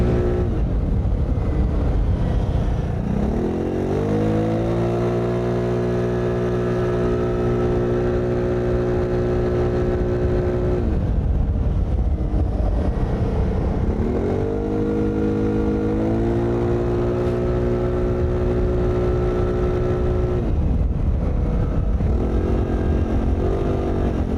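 A 2021 Keeway GT270 scooter engine drones loud and close while riding, its pitch climbing in three rising sweeps as the rider accelerates, with steady road and wind noise throughout.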